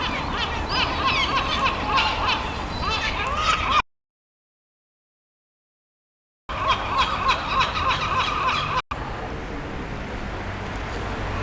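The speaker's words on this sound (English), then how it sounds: "This is where the seagulls congregate." Seagulls call over and over where they gather in Rome, making many overlapping harsh squawks at near to middle distance. A few seconds of silence break in partway through.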